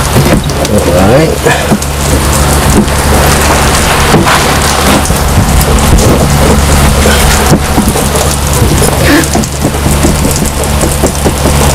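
Heavy rain pours steadily, pattering on surfaces, with low rumbles of thunder rolling beneath the downpour.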